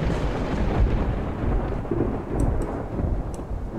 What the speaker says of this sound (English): It's just going to be a very rainy day.